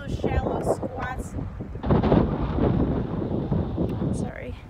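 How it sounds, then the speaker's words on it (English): Wind buffets a microphone outdoors during a home workout, producing low rumbling gusts that swell and fade under a person talking, strongest in the middle of the stretch. "It's quite windy."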